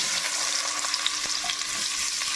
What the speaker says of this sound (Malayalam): ഇത് നമുക്ക് നല്ലവണ്ണം ഒന്ന് എണ്ണയ്ക്കകത്ത് വറുത്തെടുക്കാം